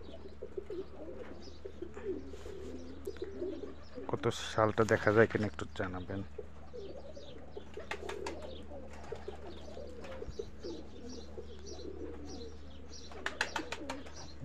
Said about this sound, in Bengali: কুয়েতের রেসার কবুতর।